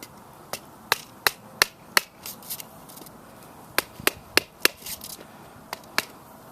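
Sharp, hard knocks of a hammer driving a screwdriver into the ground, landing in small irregular groups with short pauses between, fairly close and crisp against a quiet background.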